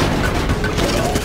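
Heavy cannon fire in a loot shooter video game, a dense run of loud booming blasts and gunfire filling the whole moment with no pause.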